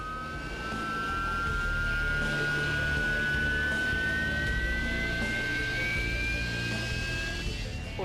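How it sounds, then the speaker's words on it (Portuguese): A fighter jet training for vertical takeoff and landing in Scotland roars loudly and continuously, its high engine whine slowly rising in pitch over a heavy rumbling base throughout. "eles estão em treinamento para pouso e decolagem vertical de qualquer lugar, em qualquer condição"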